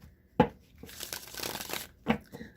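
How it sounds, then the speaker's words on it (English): A Rider-Waite tarot deck shuffled by hand, close papery riffles and rustles with two sharp snaps at the start and end of a brief crinkly stretch, with no talk. "So I'm just going to shuffle the cards a few times here."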